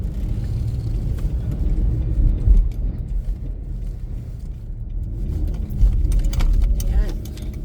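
A car drives along a road in Montreal, Quebec, producing a steady low rumble of engine and tires that swells slightly at moments, with a voice talking over it.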